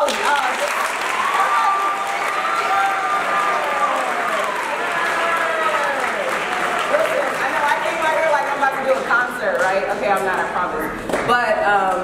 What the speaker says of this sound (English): can I just get a round of applause for all of y'all?